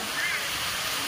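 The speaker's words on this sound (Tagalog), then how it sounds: "Yan po ang karagatan. Medyo may alon pa rin po siya" Sea waves wash steadily along the shore, a broad, constant rushing hiss with no clear breaks through the brief moment.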